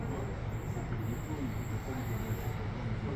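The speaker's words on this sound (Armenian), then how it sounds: "Եկավ մեր գնացքը։" A train pulling into a station in Brussels, with a steady, close rumble of wheels and carriages and faint voices in the background.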